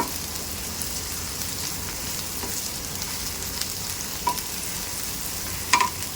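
Okra frying in a pan while it is stirred: a steady, close sizzle with scattered light scrapes and taps from the stirring, and no voices.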